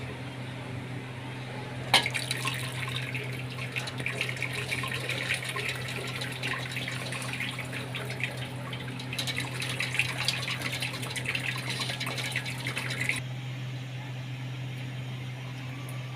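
Boiled beef trotters and their broth are poured through a strainer, producing a continuous splashing rush of liquid for about eleven seconds over a low steady hum, then stopping.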